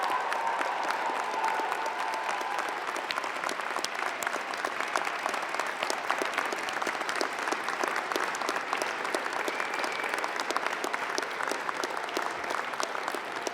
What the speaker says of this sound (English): I ask your friends, family, and members of the platform to join me in applauding the amazing graduating class of Fall